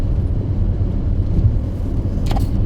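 A car driving along a road gives a steady low engine and road rumble heard from inside, continuous and fairly loud with no talk.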